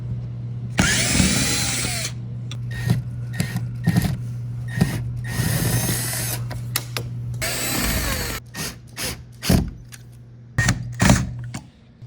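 A power drill whirs in two long bursts, then stutters in short on-off triggers, close and loud against a steady low hum.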